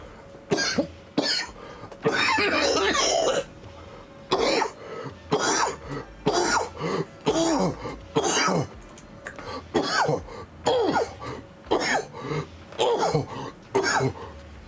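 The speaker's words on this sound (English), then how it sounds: "Got a cough to get off, I guess." A person coughs repeatedly in short bursts and clears their throat, harsh and close, with brief pauses between the fits.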